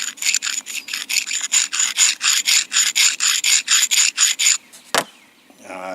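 A sharpening stone grinds along the spine of a Mora knife in quick, steady rasping strokes, about twenty even passes, close and fairly loud, followed by a pause and a single sharp scrape.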